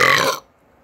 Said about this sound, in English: That one was a good burp, though.